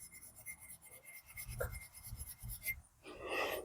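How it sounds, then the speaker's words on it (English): Fine 4/0 steel wool rubs against metal during hand finishing, giving short rasping strokes in bursts with brief pauses, close and moderately loud, with no talking. "This is just 4/0 steel wool."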